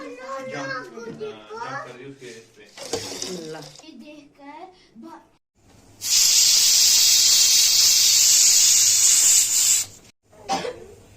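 Someone talks, then a loud, sustained hiss of steam bursts from a pressure cooker of hot water for several seconds before stopping abruptly, followed by more brief talk.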